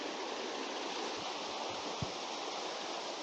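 A tiny waterfall on the Lake Superior shore at Noisy Bay, Ontario, edged with winter ice, pours in a steady broadband rush of falling water, close and continuous with a few faint low knocks.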